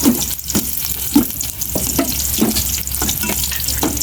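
Adobo frying in a pan with a loud, close sizzle, broken by regular scraping stirs about every half second to second, in a dim home kitchen during a power outage; no one speaks.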